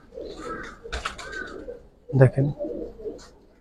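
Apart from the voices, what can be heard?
female pigeon cooing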